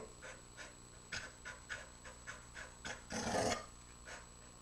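A dog pants in quick rhythmic breaths while playing with a ball in a hallway, close and fairly quiet, with a brief louder burst of movement near the end.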